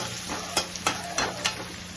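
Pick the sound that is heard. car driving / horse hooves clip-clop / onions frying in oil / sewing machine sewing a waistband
onions frying in oil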